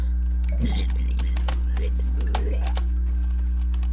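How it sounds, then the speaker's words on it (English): Light keyboard typing clicks scattered through the clip while playing the game Grounded, faint behind a low steady hum and soft nearby voice sounds. "your keyboard is also able to be heard"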